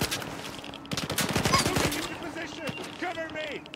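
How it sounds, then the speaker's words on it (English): A burst of rapid gunfire in the Stalker 2 video game, a quick string of sharp shots followed by scattered sounds and a voice speaking near the end. "Were they supposed to be shooting at me while I loot and have now bugged out?"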